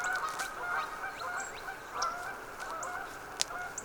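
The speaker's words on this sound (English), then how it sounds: "Oh, here come the geese." Geese honk repeatedly over a steady background hum, several calls overlapping at moderate distance with no talking, outdoors by beehives in winter.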